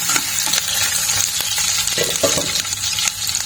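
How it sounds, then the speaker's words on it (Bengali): Thick-cut onion and a couple of bay leaves fry in hot oil for a mutton dish, giving a bright continuous crackling sizzle with stirring scrapes and clicks close up. "মোটা পেঁয়াজটা একদম ভাজা ভাজা হয়ে গেছে তেজপাতাও হয়ে গেছে ভাজা"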